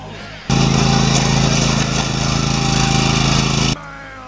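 Zero-turn lawn mower with a four-wheel-steer design and Kawasaki V-Twin engine runs steadily nearby, a loud continuous engine drone with strong low harmonics that starts abruptly, holds for about three seconds, then cuts off.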